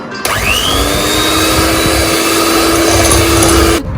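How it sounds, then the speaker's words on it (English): Sugar whisked into custard milk cake batter, a loud, steady whirring whine that starts abruptly, holds evenly for several seconds, then cuts off. "So we will start whisking this now."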